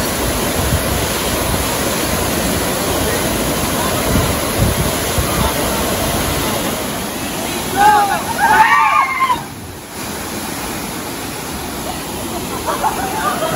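A waterfall at Bolinao, Pangasinan roars with a steady, loud broadband rush of falling water close by, while people talk and call out over it.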